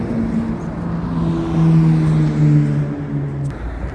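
Steady road noise from vehicles on the Decarie Highway in Montreal, the route toward Ottawa and Toronto, with a car rumbling past close by and a continuous low roar of traffic.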